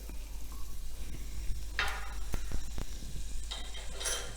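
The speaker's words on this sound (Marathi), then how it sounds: "आपण पॅन गरम करून घेऊया त्यामध्ये बटर टाकायचं आहे" Butter sizzles and melts in a hot pan, a soft steady crackle with a few clinks and scrapes of a utensil against the pan, close by and without talk.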